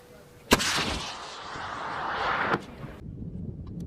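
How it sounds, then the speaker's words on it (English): An M3E1 MAAWS recoilless rifle fires once during an Army test, a sudden loud blast that rolls into about two seconds of roaring rumble and then a sharp crack before fading. "Firing, firing, firing!"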